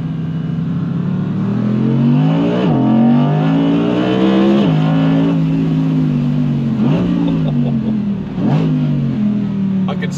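An Audi R8 RWD Performance on a closed private road, its engine loud and close, revving hard through several rising gear pulls with brief dips at each shift as it accelerates.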